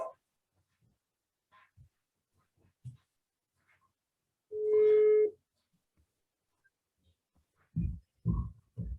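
A phone call ringback tone sounds once as a single steady electronic beep in an otherwise quiet room, followed by a few soft low thumps.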